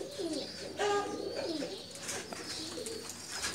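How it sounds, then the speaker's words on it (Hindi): Pakistani tournament champion pigeons coo up close in soft, repeated phrases. Faint chirps and light background noise sit beneath the cooing, and no one speaks. "कबूतर ये उनके चैम्पियन कबूतर हैं।"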